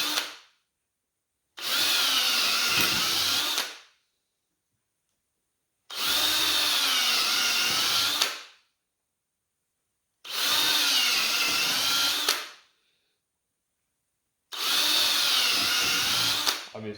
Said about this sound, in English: and the drill bit does walk.